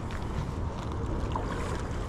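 A boat engine idles low and steady on the water at a bass fishing tournament, a continuous close rumble mixed with wind noise across the full stretch.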